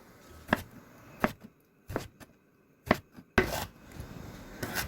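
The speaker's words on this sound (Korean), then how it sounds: "필러로 가지의 껍질을 조금 벗겨내고 먹기 좋게 잘라주세요" A knife chops through a peeled eggplant on a cutting board, about seven sharp, close knocks spaced unevenly with short pauses between them.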